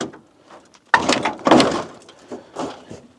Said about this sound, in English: Should we see if the door opens?